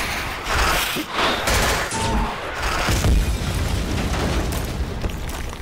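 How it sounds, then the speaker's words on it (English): Gunfire and explosions from a tactical raid scene in the game Escape from Tarkov, a close, loud run of booming blasts and rattling shots that continues without a break. "The explosion would have been 3 times the size of that."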